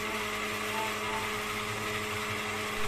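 A blender grinds rawon spice paste with water, a loud, steady motor whir that stays constant throughout with no talking.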